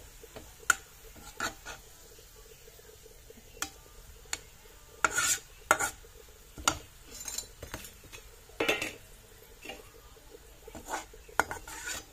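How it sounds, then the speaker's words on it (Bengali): Fried onions are lifted out of a pan, with irregular metallic clinks and scrapes of a utensil against the pan over a quiet background hiss, some strikes clustered, others spaced a second or two apart. "আমার পেঁয়াজ বেরেস্তা হয়ে গেছে, এখন এটা উঠাইয়া রাখবো।"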